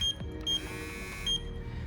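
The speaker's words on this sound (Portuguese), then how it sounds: "Uma chave que ela tem um bipzinho que depois de algum tempo vocês acabam esquecendo" A Galletz GTI-38 machine's power switch emits three short, high, piercing beeps at steady intervals over a low background hum.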